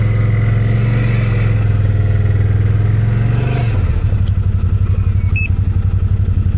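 Can-Am Outlander 1000R Backcountry ATV mud build on 34-inch tires, its engine droning loudly at steady revs, then easing as the machine backs up into a pulsing, lumpy idle, with a brief chirp near the end.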